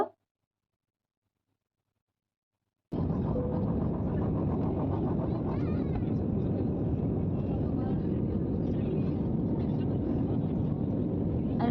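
Airplane cabin noise during a flight over Kolkata, a loud steady broadband engine roar that holds constant after a silent opening.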